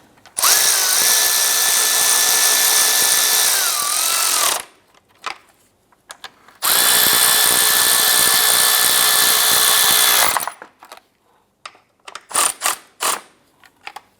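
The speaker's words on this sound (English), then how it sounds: "Once we get these bolts started by hand, let's go ahead and tighten those down." A power tool tightens headlight mounting bracket bolts on a 2011-2018 Ram 1500, two long steady whirring runs of about four seconds each, close and loud, followed by a few short ratcheting bursts.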